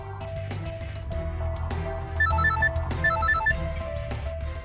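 A telephone rings with repeated electronic trilling bursts over a low background hum, moderately loud and close.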